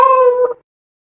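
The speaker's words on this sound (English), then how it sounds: "Cat." A single cat meow, clear and close, held briefly and then cut off into silence.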